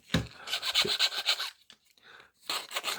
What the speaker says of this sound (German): Das ein bisschen schleifen.